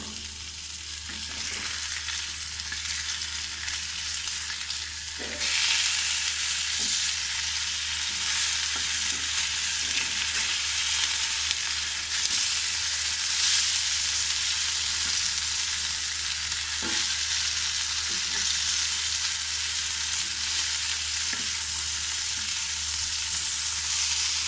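Fish frying in oil in a pan, a steady close sizzle that runs continuously with occasional soft clicks of stirring or turning, no voices.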